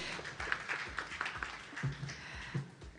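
An audience at a Ring the Bell for Gender Equality event for International Women's Day 2024 gives a round of applause, heard as light, scattered and fairly faint hand claps.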